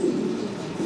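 Pair of white Mundi pigeons giving a brief, low, throaty coo, close and moderately loud, with no voices over it.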